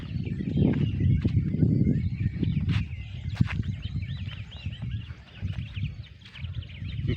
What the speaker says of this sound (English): Where you just hear bird sounds like this.